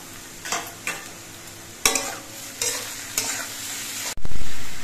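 Taro stems and slit green chillies go into onions frying in oil, with a few sharp spatula strokes and taps, then a sudden loud hiss and sizzle as they hit the hot pan.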